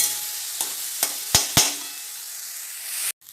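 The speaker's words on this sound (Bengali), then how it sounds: "ডাল ধুয়ে ডালের সঙ্গে ফোড়নটা একটু এক সেকেন্ডের মতো একটু নাড়িয়ে নিতে হবে" Washed masoor (red lentil) dal stirred into sizzling tempering spices in a hot pan for a Bengali dal, a steady close frying hiss broken by several sharp spoon scrapes and knocks, cutting off abruptly near the end.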